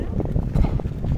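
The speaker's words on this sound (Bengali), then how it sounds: "সমুদ্র ধারে প্রচুর হাওয়া দিচ্ছে এখন," Strong wind gusts at the seashore in Digha, West Bengal, buffeting the microphone with a loud, continuous, low roar for a brief moment, with no voices.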